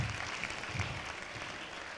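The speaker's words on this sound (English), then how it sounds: "Give yourself a good round of applause." Audience applause at a business forum talk, a dense, steady wash of many hands clapping that fills the whole stretch at an even level with no voices standing out.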